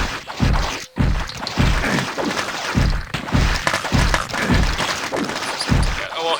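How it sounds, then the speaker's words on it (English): A cleric's mace swung with primary fire in the game Wrath of Cronos, a rapid series of about ten heavy whacking thuds at a steady, fast rhythm, loud and close. "primary fire with the mace here"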